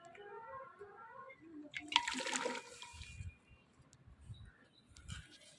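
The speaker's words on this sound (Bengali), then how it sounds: "কড়াইতে জল দিয়ে দেই।" Water is poured into a cooking pan (kadai) in a village kitchen: a brief splashing gush, then faint trickles and soft dull thuds, quiet and close.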